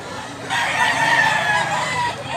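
A blues-colored gamecock of the Doctor Blues bloodline gives one drawn-out crow, loud and close, lasting about two seconds.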